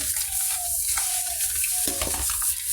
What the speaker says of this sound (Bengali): এরপর লবণটাকে ভালো করে মিশিয়ে নিব।